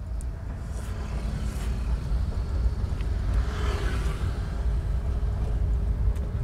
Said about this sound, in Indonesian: Nah, kita gas lagi, mobilnya jalan.